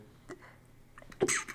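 A person indoors gives one short sneeze near the end, preceded by a faint breathy intake, fairly close and quiet overall.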